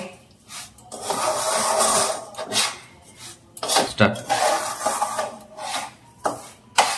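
Semolina roasting in a pan for suji halwa, stirred continuously, giving close, gritty scraping and rasping strokes in an uneven rhythm with occasional louder scrapes against the pan, with no talking.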